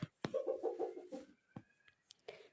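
A hen clucks in a quick series of close calls, followed by a few scattered softer clucks and small sounds in a quiet spot at night.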